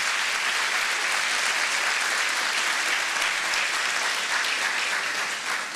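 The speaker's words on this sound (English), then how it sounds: "Please give them a big round of applause." Sustained applause from a crowd, dense steady clapping filling the whole stretch at an even loudness with no talk.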